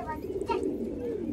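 Pigeons cooing softly indoors, a brief low throaty coo heard faintly under a voice.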